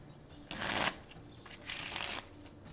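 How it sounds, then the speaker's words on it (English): Playing cards for a Magic: The Gathering deck being shuffled up close and quietly, two separate riffle bursts of crisp papery flutter with a short pause between them. "A little bit of shuffle ASMR."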